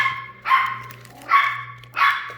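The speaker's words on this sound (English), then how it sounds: "My dogs are barking like crazy right now." Dogs bark indoors in three sharp, separate barks spaced about half a second to a second apart, fairly close and loud over a low steady hum.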